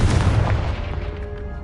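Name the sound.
Confringo explosive spell in the video game Hogwarts Legacy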